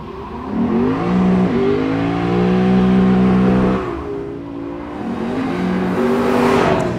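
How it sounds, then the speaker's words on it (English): A Lexus GS F with a 5-litre V8 accelerates hard on a race track, its loud, close engine note climbing through the revs, dropping at a gear change and then rising again. "under the hood, it's got exactly the same 5-litre V8 engine that's in the RCF"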